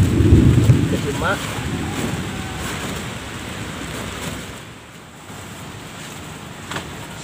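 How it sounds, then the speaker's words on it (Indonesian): Thunder and rain outdoors: a deep rumble swells at the start, then fades into a steady broadband hiss of rainfall that continues to the end. "Hujan-hujan kieu."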